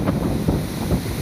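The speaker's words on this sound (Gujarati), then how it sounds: "જોજો પવન એવો હોય વરસાદ એવો હે" Strong wind gusting during heavy rain outside a village temple, a loud, rumbling roar of buffeting microphone wind with no voices.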